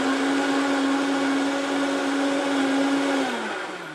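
A Vitamix 5200 blender spinning with soapy water inside, giving a loud, steady motor roar with a constant whine that drops in pitch as it winds down at the end.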